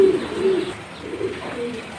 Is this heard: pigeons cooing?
yes